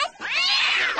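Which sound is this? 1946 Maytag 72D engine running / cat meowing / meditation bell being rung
cat meowing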